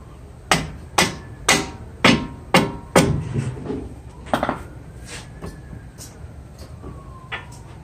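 Hammer blows on the right front CV axle of a Kia Rio or Forte with the nut still threaded on, a steady series of about seven loud metallic strikes, then fainter scattered taps and a distant siren passing in the background.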